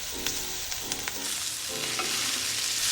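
Filet mignon sizzles steadily in a hot skillet as butter and garlic are spooned over it, with a constant frying hiss and light scraping, clinking basting strokes, close and alone.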